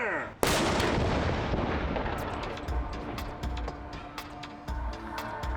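A naval ship's gun on the USS Constellation in Baltimore fires one sudden loud blast, followed by a long rolling echo and scattered crackling reports as the sound fades out.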